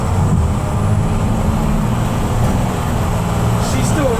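An old bus being driven, its engine droning steadily up close as a continuous low rumble with road noise throughout.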